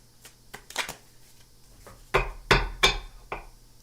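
Tarot cards being shuffled by hand, with a handful of sharp slaps, clacks and riffles in an uneven rhythm, close and fairly loud, heard with no talking.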